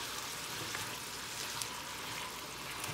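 Salmon, mushrooms and artichoke get stirred in a hot skillet, a steady soft sizzle with a few faint scrapes and taps from the utensil, no talking.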